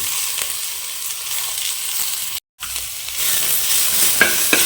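Tomato stirred into onions frying in a pan for a Boothai Gasi fish curry, a steady close sizzle with scraping stir strokes and a brief silent gap midway, no voices.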